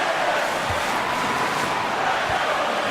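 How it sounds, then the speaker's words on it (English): An arena crowd in the NBA 2K18 basketball video game keeps up a steady, dense roar that holds at an even level throughout. "you can feel the crowd react as one"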